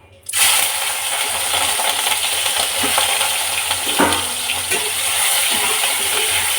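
Prawns frying in oil with lemon and salt for a prawn malai curry, a loud dense sizzle that starts abruptly and stays steady, with a few clinks of stirring against the pan, and no voices.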